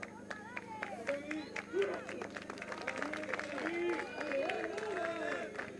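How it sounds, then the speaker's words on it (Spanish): Scattered, spontaneous clapping from spectators at a women's football match between Universidad de Concepción and Deportes Puerto Montt, sounding as sparse claps under a commentator's continuous voice and general crowd murmur. "Y aquí en la parte baja los aplausos espontáneos para Camila Pincheira, la golera alternativa"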